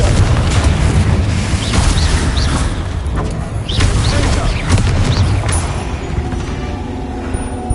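A Confringo fire spell in Hogwarts Legacy sets off a loud, dense barrage of booming blasts and crackling bursts that runs without a break, with a voice briefly shouting over the din.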